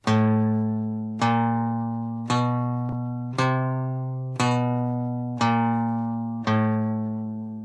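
An electric guitar plays the spider exercise as seven evenly spaced, ringing plucked notes, each struck cleanly and left to decay before the next, with no talking.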